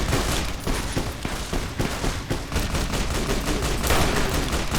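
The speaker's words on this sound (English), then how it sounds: "Why are they shooting at my boy Raoul?" Rapid bursts of automatic gunfire in Fallout: New Vegas, loud and dense shots in quick uneven volleys throughout, with no speech over them.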